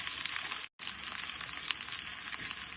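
Chicken fried rice is stirred slowly in a pan over lowered heat, giving a steady soft sizzle with a brief cut partway through and no talking.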